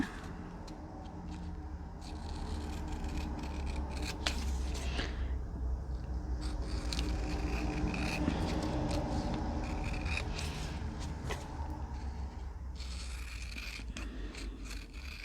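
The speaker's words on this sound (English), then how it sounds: "I'm going to cut it down a little bit" Paper trimmed with scissors at a tabletop, repeated snipping cuts and faint sliding scrapes spread across the stretch over a steady low background hum, close and fairly quiet with no talk.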